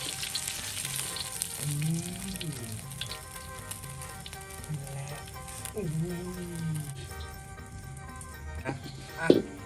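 Cheese-stuffed pork balls stir-frying in a pan at a rustic outdoor cookout, a constant sizzle broken by scraping stirs, with a voice talking over the frying.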